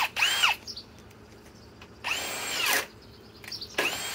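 A hammer drill fitted with a speed bore bit runs on speed two and whines up in three short, loud bursts, each spinning up and cutting out, with quiet gaps between.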